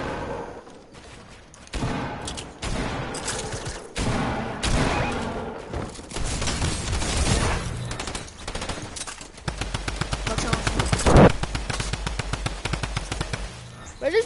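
Rapid video game gunfire, fast rattling bursts and single shots that build into dense continuous fire, with a player talking over parts of it.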